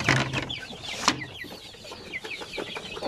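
A young chick about 45 days old, alone in a cage, clucking and chirping in short repeated calls, close and clear.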